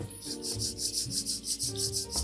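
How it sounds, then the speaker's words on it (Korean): Soft, close dry rubbing of fingertips brushed together right in front of the nose, about 65 decibels, repeating in a quick steady rhythm with no talking. "이제 이렇게 비비면 이 비비는 소리가"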